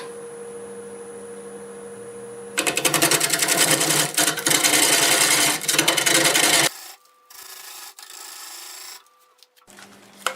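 A wood lathe turns a wild cherry bowl blank cut with a square carbide tool: about four seconds of loud, steady, gritty scraping close by, then it stops, leaving a low motor hum and light clicks.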